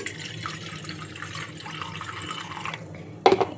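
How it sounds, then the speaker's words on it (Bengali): About two cups of water are poured over whole spices, including mace, in a pot, making a soft, steady splashing trickle that ends with a brief louder splash. "আমি 2 কাপ মতো জল ঢেলে দিচ্ছি।"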